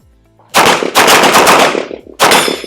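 Loud, close gunshots during a competition shooting transition drill, fired in rapid strings separated by short pauses, sharp and powerful with echoing tails.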